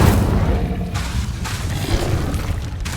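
An Incendio fire spell is cast in Hogwarts Legacy, a dull, rumbling whoosh of flame with booming low energy that swells and fades over a few seconds, with no talking.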